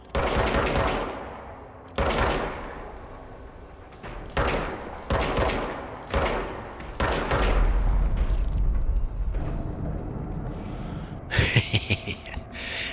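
Service weapon gunfire in the video game Control: several loud, sharp shots ring out with echoing decays, then a sustained low rumble and a rapid burst of fire near the end.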